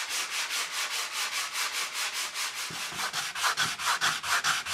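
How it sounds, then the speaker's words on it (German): Hand sanding of a wooden alphorn tube lengthwise along the grain, steady back-and-forth rasping strokes in a regular rhythm, close and fairly loud with no voices. "Die Rohre werden immer längs in Faserrichtung geschliffen."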